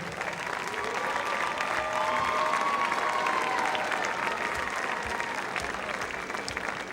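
Sustained applause fills a high school gym at a basketball game, steady and even throughout as a crowd claps to honour a coach receiving a recognition plaque, with no break in the clapping.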